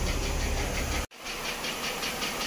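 A 2009 Mercedes-Benz ML350 engine idling, a steady close hum with a hissing, pulsing rhythm that briefly cuts out in a short dropout before resuming evenly.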